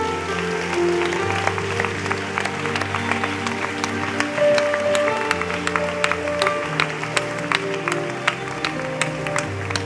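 A church crowd at a healing service in Guadeloupe applauds steadily and loudly for about ten seconds, dense overlapping claps over a sustained murmur of voices and background music.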